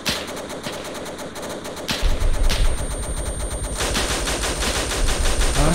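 Rapid bursts of automatic gunfire and single shots from the military video game Arma 3, loud and close, with a heavier sustained barrage in the second half and no talking.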